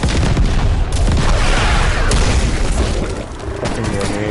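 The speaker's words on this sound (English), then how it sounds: "Fucking grenade." A grenade blast in Call of Duty Cold War zombies mode, a loud booming burst set in dense, continuous game noise of gunfire and rumble, with a voice talking over the chaos.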